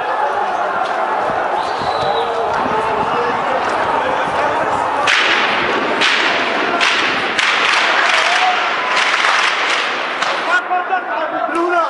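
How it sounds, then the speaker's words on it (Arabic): Security forces fire on demonstrators in Barzeh, Damascus, on Good Friday. Sharp cracks come in rapid bursts over loud, continuous crowd noise and voices, growing denser in the second half. "شوفوا اطلاق الرصاص على اهل برزه."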